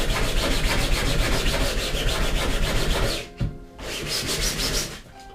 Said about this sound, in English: I was sanding on the seam, so which I advise you not to do